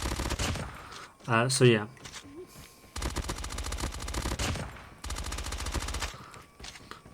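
A large-caliber gun with a limited ammo pool fires in a ranked shooter video game, in rapid automatic bursts separated by short pauses, loud and close, while someone talks between the volleys.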